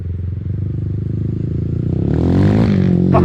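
Honda 450R big bore motorcycle engine under load while riding, a loud continuous close-up drone that climbs in pitch as the rider rolls on the throttle, with clattery mechanical texture and no talk.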